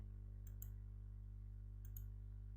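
Two pairs of sharp computer mouse clicks, close and fairly faint, spaced about a second and a half apart over a steady low electrical hum, with no talking.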